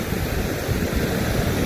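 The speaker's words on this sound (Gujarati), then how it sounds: "ને પાણીનો પ્રવાહ જો કેટલો ભાઈ ચાલુ છે, ધોધમાર" Heavy water pours over the overflowing Shetrunji Dam at Palitana, making a steady, loud, broadband rush that holds constant throughout, with no voices present.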